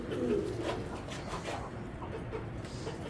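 Racing pigeon cooing nearby, soft low coos over steady background noise, strongest at the start and fading into a muffled murmur.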